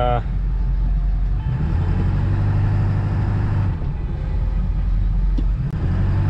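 A 7.3 Powerstroke diesel truck on the road, its engine a steady low drone with rumbling road noise from inside the cab, and someone talking throughout.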